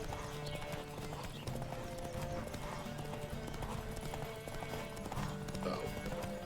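A horse gallops in the video game The Witcher 3: Wild Hunt, its hooves beating in a steady, fast clip-clop rhythm, with a brief neigh and game ambience behind it.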